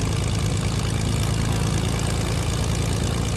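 A vehicle engine drones steadily and loudly while being driven in Fortnite, a constant low rumble with no pause and no voices.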